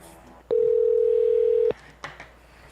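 During a call transfer, a single steady telephone line tone sounds loud and clean for about a second, followed by a couple of faint clicks on the line.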